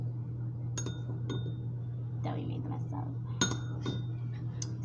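Cutlery and dishes clink in a kitchen while chocolate pretzels are being made, several sharp separate chinks over a steady hum, with faint voices murmuring in the background.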